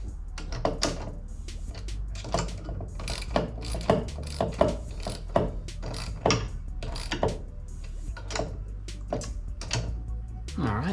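Bolt on a Garmin Force trolling motor stabilizer being snugged down by hand with a ratchet, giving a steady run of close clicking strokes with irregular mechanical clatter between them.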